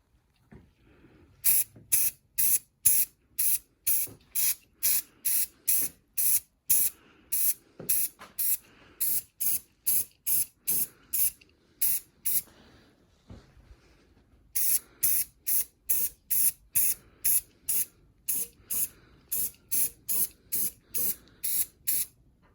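Short bursts from a spray can coat motorcycle frame parts, including the swing arm and headlight bracket of a Honda Trail 70: dozens of sharp, evenly spaced hisses, loud and close, with one brief pause partway through.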